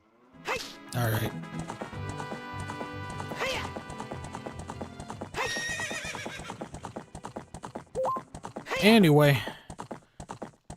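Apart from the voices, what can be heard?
horse galloping in video game Zelda: Ocarina of Time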